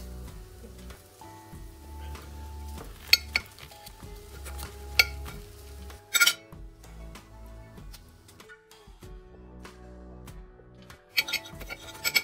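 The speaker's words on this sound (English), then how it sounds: "I just love the way that they crack and pop like that" Lidl sausages fry in a pan, with faint crackling and sizzling under sporadic clinks of utensils and cookware, a few sharper knocks and pops standing out between quieter stretches.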